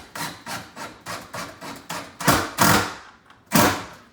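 Screws being driven into a wooden cabinet during installation: close, rapid rasping bursts repeat in a steady rhythm, then a few louder, longer grinding pulses, with no talking.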